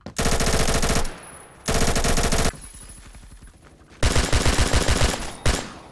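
Gunfire in a first-person shooting video game with an AK107 in play, three loud bursts of rapid automatic fire separated by brief quieter pauses, close and dominant.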